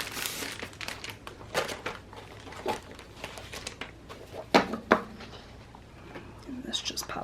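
Loose sheets of extra paper for a Happy Planner budget planner are handled and shuffled close by, with soft crinkles and sharp rustling bursts at irregular intervals over a quiet background.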